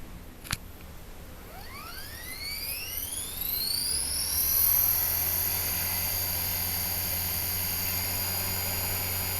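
A small HK 450 RC helicopter on a Spektrum radio spools up after a sharp click. A rising, sweeping whine climbs in pitch, then settles into a steady high-pitched rotor and motor drone, close and moderately loud.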